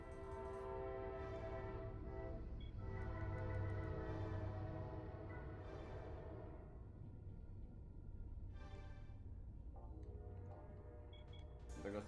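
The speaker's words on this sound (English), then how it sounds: "there goes the train" A train passes in Gran Turismo 3 during a 400m dash, its horn sounding in long sustained tones over a steady rumbling rail roar that stays loud throughout.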